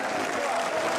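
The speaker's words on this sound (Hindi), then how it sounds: "और आपकी तालियां रुकनी नहीं चाहिए साथियों।" A rally crowd at an open grain market claps in a brief, loud, continuous burst of applause, dense and steady for the whole second with no voices standing out.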